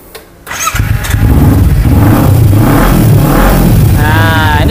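A used 2016 Kawasaki Ninja FI, a fuel-injected 250 cc sport motorcycle with about 40,000 km on it, starts up close by and is revved in several loud rising and falling pulses, with no talk over it.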